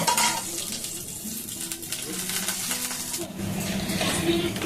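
Cumin seeds and curry leaves fry in a pan of hot oil with a steady close sizzle, punctuated by light scraping and clinks of stirring against the pan.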